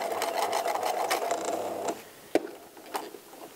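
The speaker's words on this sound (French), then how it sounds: "On va piquer les côtés." A sewing machine stitches the sides of lightly coated fabric, a close rapid rhythmic whir for about two seconds, then stops, followed by a few faint clicks and handling taps.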